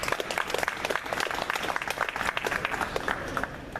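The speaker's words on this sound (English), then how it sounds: "give him a round of applause." An audience at the National Folk Festival launch in Baltimore breaks into dense, steady applause of many clapping hands, sustained throughout at a moderate distance.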